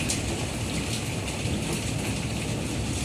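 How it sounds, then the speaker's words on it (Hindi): Heavy rain falling at night in Karachi during a thunderstorm, a steady dense hiss of rainfall running throughout, with no distinct thunder crack standing out. "इस वक्त गरज चमक के साथ बारिश जारी है।"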